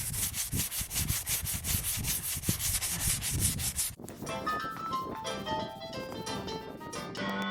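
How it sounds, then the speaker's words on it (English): A Dodge van roof sanded by hand with 80 grit sandpaper, loud rhythmic back-and-forth scraping strokes close up for about four seconds, followed by background music. "We're going to tear after it with this 80 grit right from Ace Hardware."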